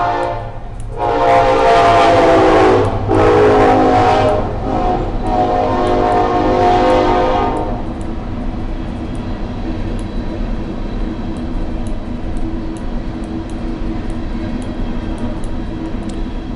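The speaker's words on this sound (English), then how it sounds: "that train's a little early today" A train passes nearby with a loud rumbling surge and horn-like tone for several seconds, then fades to a low steady rail hum with faint periodic clicks, no voices.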